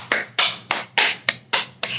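Seven crisp, close hand claps in a steady, slightly quickening rhythm during a children's rhythm sing-along, sharp bright smacks with short tails and no voices over them.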